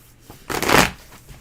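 Tarot cards being shuffled up close, one brief riffling burst in a quiet room.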